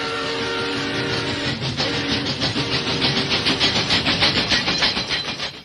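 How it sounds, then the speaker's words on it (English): A train rumbles past nearby, its wheels clacking in a steady rhythmic beat that grows more pronounced as it goes by. "train was crossing the road"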